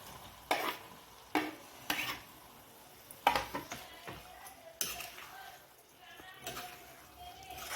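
Boiled prawns going into a curry in a pan, several sharp metallic scrapes and clinks of a spoon against the pan, with a faint sizzle underneath, close and fairly quiet.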